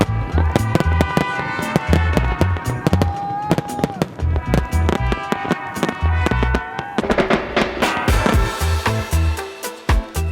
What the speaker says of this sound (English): we made it just in time to see the fireworks.